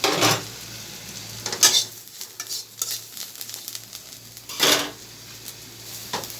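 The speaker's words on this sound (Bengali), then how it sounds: "আর এই যে এই ভাজিটার মধ্যে ডিমটা ছড়ে দিব" Egg stirred into snake gourd bhaji frying in a pan: a soft, steady sizzle broken by several scraping stirs and spatula knocks against the pan, close by, with no talk.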